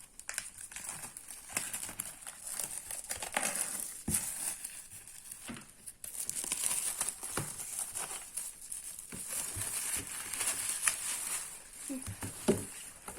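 Plastic packaging crinkles and crackles as a 3D puzzle model kit is opened by hand, with irregular close rustles, snaps and tearing sounds at a fairly low level.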